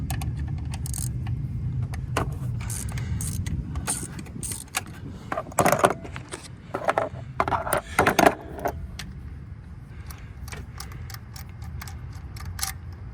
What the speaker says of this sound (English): now I'm gonna use a 10 socket on an angle to pull these bolts